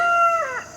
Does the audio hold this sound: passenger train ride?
no